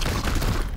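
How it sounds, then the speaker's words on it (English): Gunfire in Warhammer 40,000: Chaos Gate - Daemonhunters, a brief dense burst of overlapping loud shots lasting under a second. "Opening fire!"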